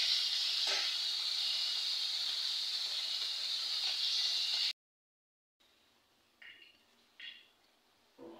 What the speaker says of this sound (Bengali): ডিম আর মাছ ভেজে দিলাম